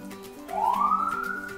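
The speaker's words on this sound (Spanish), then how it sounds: "Pasa una ambulancia." An ambulance siren passing outside a home kitchen, a single rising wail swelling moderately in the distance, then holding a high steady tone, with no talk over it.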